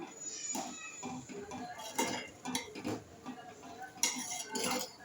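A spoon stirs prawn curry seasoned with salt in a metal pot, making irregular scraping clinks and taps against the sides, moderately close and fairly soft, with a few sharper knocks among them.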